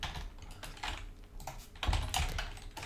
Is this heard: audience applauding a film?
no